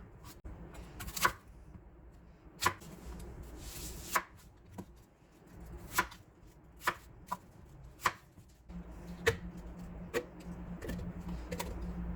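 A knife chops through an apple and an onion on a cutting board for Korean kimchi seasoning, giving a run of about a dozen sharp, close, evenly spaced thuds against a low background hum.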